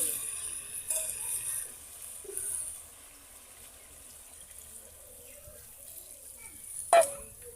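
Water splashes into a pan of frying chicken giblet curry, a soft, close gush of pouring and bubbling with a brief louder splash near the end, over a quiet background.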